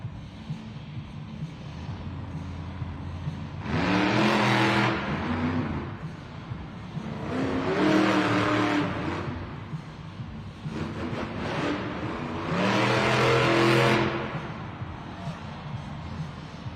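Monster Mutt Rottweiler monster truck engine at a Monster Jam arena event in Las Vegas, revving in three loud surging bursts with a steady idle rumble and faint crowd noise between them.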